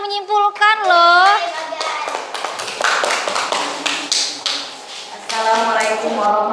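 A primary school class of children claps for a classmate in a classroom: a burst of many quick claps from the group, framed by children's voices speaking and calling out before and after.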